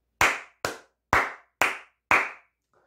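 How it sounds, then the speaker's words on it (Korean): Five crisp hand claps in an even, unhurried rhythm, close and fairly loud, with brief silent gaps between them and no talking. "가볍게 박수 한번 치고 가도록 하겠습니다."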